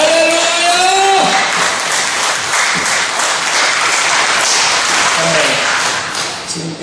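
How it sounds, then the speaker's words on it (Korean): A church congregation breaks into loud, sustained applause and clapping, a dense wash of many hands, with a voice speaking over it near the start and again near the end. "하나님 앞에 먼저 영광의 박수를 힘있게 드리겠습니다."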